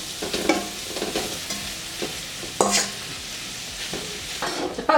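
Meat for Bisaya humba sizzling in a pan with garlic and onion, stirred with a utensil: steady frying hiss punctuated by repeated scraping stir strokes and a few clinks, close and alone.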